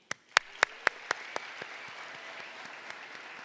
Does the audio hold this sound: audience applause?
yes